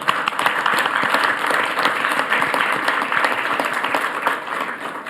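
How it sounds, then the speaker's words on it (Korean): Group applause at a K-shipbuilding future vision meeting at the Blue House, dense and steady hand clapping from the gathered attendees, sustained throughout at an even level. "박수 한번 치면 어떨까?"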